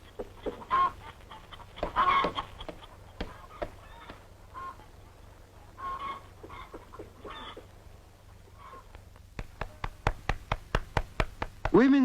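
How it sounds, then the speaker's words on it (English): Women's hands pat corn tortillas in an adobe village in Mexico, making a run of quick, evenly spaced slaps that builds toward the end. Faint voices and rooster-like calls sit in the quieter background before it. "Women's hands patting tortillas is a familiar sound throughout Mexico."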